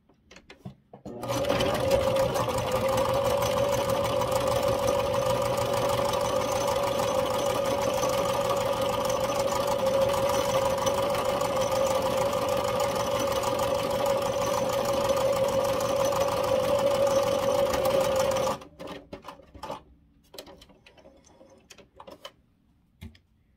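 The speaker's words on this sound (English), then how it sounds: "I'm just going to stitch the right sides together." A sewing machine stitches the right sides of fabric together for a bedtime gnome blanket, running in one loud, even, rapid whir for about seventeen seconds before stopping, followed by faint handling sounds.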